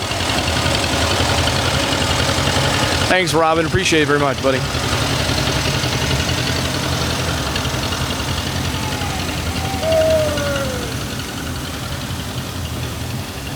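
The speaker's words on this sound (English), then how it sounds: "Robin Blue on his John Deere green tractor." A John Deere tractor idles with a steady low rumble throughout a Veterans Day parade in Humphreys County, Tennessee, while someone speaks briefly over it.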